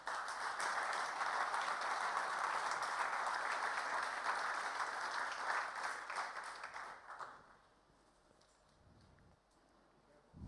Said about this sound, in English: A big round of applause, please, for AEK's victory.